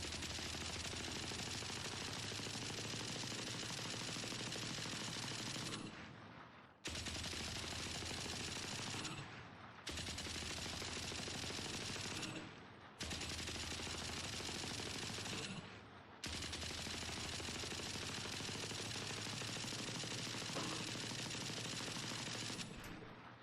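Ares machine gun firing in the video game Valorant in long sustained automatic bursts, loud and continuous, broken by brief pauses between four or five strings of fire.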